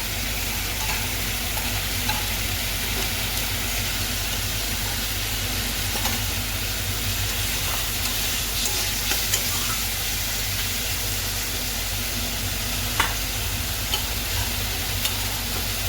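Fish cooks in water under a lid in a pan, giving a steady, close, continuous bubbling sizzle with occasional faint clicks, no voices.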